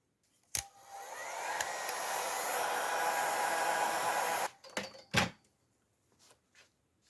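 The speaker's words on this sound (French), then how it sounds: "Donc je vais chauffer au décapeur thermique." A heat gun blows steadily for about four seconds while heating a Kydex sheet, framed by sharp clicks of its switch and a few knocks and clatters afterward.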